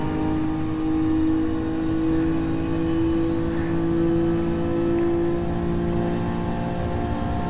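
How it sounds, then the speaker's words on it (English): Engine of a 1973 GTR race car, heard from inside the cockpit during a sprint race on a track: a loud, steady, close drone with a strong, constant tone that holds without a break for the whole stretch. "We listen to that engine."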